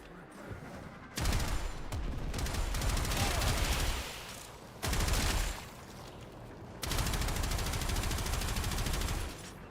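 Warframe gunfire comes in three long rapid-fire bursts, loud and dense, separated by short quiet gaps, close and alone without talk.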